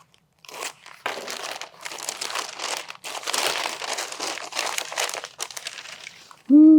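Large bubble wrap crinkles and crunches in bursts as a glass box is unpacked, steady rustling handling sounds close by for several seconds before a short loud tone at the end.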